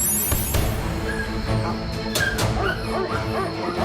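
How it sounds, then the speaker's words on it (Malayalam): Several dogs in a TV drama episode give short yips and whimpering barks at close range, scattered over a steady bed of background music. "എന്റെ പ്രിയപ്പെട്ട ഡോഗ്സ് എത്ര ക്യൂട്ടാണ്"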